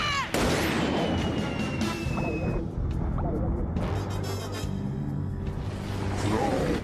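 Cartoon cannons fire in a dense, loud barrage from a hotel during a Pokemon episode, with booms and crashes layered over continuous noise and music and no clear talking.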